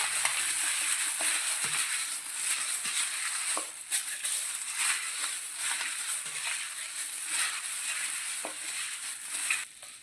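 Raw prawns being mixed with turmeric and salt for a prawn pickle, a steady wet squelching and crackling with small clicks, close and continuous with no talking.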